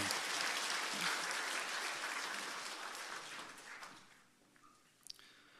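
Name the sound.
congregation applauding in church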